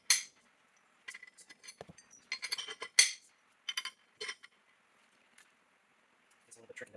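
Metal countersunk bolts clink sharply against a metal adapter plate for a Lotus Europa, scattered close taps and jingles with quiet gaps between them.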